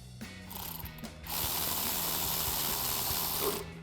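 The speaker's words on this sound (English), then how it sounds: "now I'm going to take my 7mm, my electric ratchet, tighten these up" Electric ratchet with a 7mm socket tightening coil pack screws on a 1999-2004 Mustang 2-valve engine, a close buzzing mechanical whir with a clicking pulse that starts, briefly pauses, then runs steadily before stopping.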